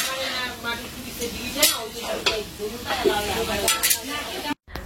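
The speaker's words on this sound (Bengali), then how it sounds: "এখানে মাংস রান্না হচ্ছে, একটাতে পাঠার মাংস, একটাতে খাসির মাংস।" Goat meat cooking in pots in a home kitchen, with a steady sizzle, clinks of a stirring spoon against metal, and scraping throughout, while people talk nearby.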